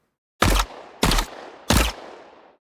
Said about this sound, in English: And it works great for single shots as well.